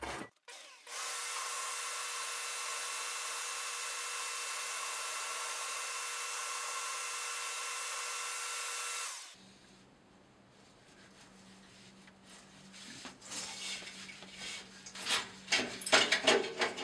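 Shop vacuum sucking ash out of a Harman P-series P68 pellet stove during end-of-season cleaning, a loud steady roar for about nine seconds that cuts off abruptly, followed by quieter scraping and clattering.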